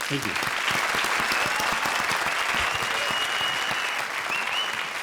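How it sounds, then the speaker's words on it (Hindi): Studio audience on a Hindi TV comedy show bursts into loud, sustained applause, a dense wash of many hands clapping for the full length, with brief voices and cheers mixed in. "तो जोरदार तालियां प्रिंस और वीआईपी के लिए"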